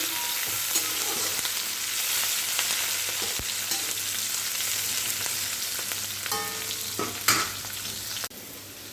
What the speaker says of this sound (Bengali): এই যে ফুলকপি এটা ভেজে নিয়েছি এগুলো দিয়েই আজকে বানাবো হালকা করে একটু ভেজে নিচ্ছি